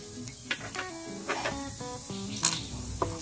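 Spices sizzle loudly in about two tablespoons of hot coconut oil in a pan. A close, hissing fry runs throughout, broken by repeated metallic stirring clinks and scrapes.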